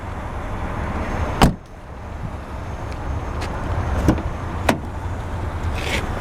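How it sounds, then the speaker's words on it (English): Door latch on a 2008 Saturn Astra XE opening and closing, giving a few sharp, close clicks and clunks spread over several seconds against a steady low background hum. "Door latches are a bit heavy."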